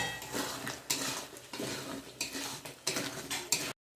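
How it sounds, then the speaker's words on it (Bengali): Cut potatoes are stirred and sautéed in spice paste for a bhetki fish-bone chorchori, with repeated metal spatula scrapes and clinks against the pan over a light sizzle, close by and without speech, ending abruptly. "মশলার মধ্যে আমি আলুগুলো দিয়ে দেবো সব কিছু ভালো করে কষাবো"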